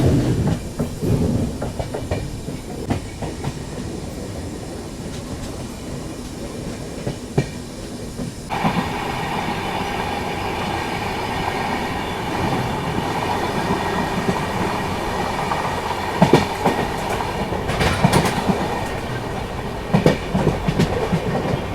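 Shatabdi Express passing Madar Junction station near Ajmer, a loud steady rumble of wheels with rhythmic clickety-clack and brief squeals and hiss, continuous throughout.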